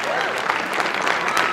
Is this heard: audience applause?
yes